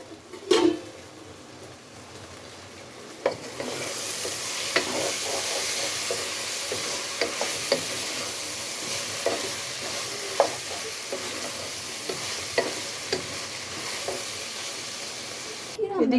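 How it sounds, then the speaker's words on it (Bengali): Vegetable bhaji fries in a pan with a continuous close sizzle after a clatter at the start, and light scrapes and clinks from stirring recur throughout. "এদিক দিয়ে ভাজিটাও হইতেছে।"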